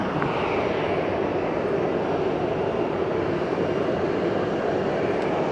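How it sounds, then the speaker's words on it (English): A Japan Airlines Airbus A350-900 landing at Fukuoka Airport gives off a loud, steady jet roar that holds evenly throughout, broad and continuous like distant thunder. "Coming in one of the Japan Airlines A350-900s"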